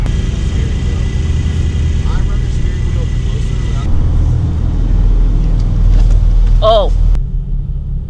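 A Porsche engine runs with a steady low rumble as the car drives, continuous and close throughout, with people talking and exclaiming over it.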